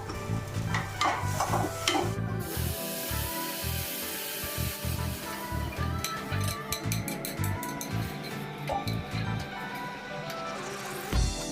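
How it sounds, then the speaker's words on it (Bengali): Food sizzles and fries in a pan on a home stove while it is stirred, a steady hiss broken by scraping strokes and light clinks of the spoon against the pan, with no talk. "এবার নাড়বো"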